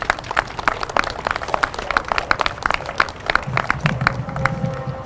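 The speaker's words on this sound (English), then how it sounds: "So let's give them a big round of applause." An audience at a city news conference claps in applause, a dense run of sharp claps that thins near the end as a low murmur of voices rises.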